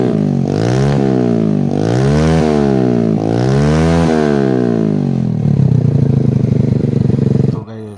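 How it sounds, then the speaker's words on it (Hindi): Hero Splendor motorcycle fitted with an Akrapovic exhaust revs up and down in repeated loud throttle blips, then holds a rough, crackling higher idle before cutting off abruptly, recorded close up. "गाइस ये है स्प्लेंडर, इसमें लगा है अक्रापोविड एग्जॉस्ट।"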